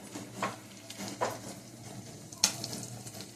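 Fish frying in a pan for a fish fry, a soft steady sizzle heard up close with a few brief stirring scrapes and clinks standing out over the quiet hiss.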